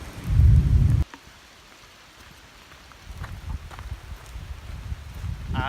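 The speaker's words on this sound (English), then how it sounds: "I may need to throw my rain gear on. It's worse than I thought it was going to be." Heavy rain falls during a forest day hike, with a loud low rumble of thunder at the start, then a steady patter and hiss of rain that builds again toward the end.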